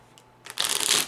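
Spanish playing cards of La Baraja Española being shuffled, a quiet riffle building after a brief soft tick into a dense, close, rapid flutter of cards for the final half second.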